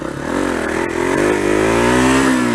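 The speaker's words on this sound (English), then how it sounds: "And of course, the obligatory wheelie in" A Kawasaki KLR dual-sport motorcycle engine revs hard and loud up close during a wheelie, a rising, steady mid-pitched roar with a faint clatter at the start.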